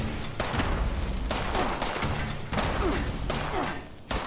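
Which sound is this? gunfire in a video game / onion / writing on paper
gunfire in a video game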